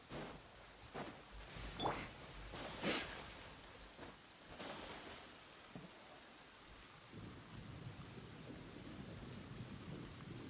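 Rain and thunder in the video game Genshin Impact: a constant wash of rainfall with several thunder cracks and rumbles rolling through the first half, then steady rain continuing alone.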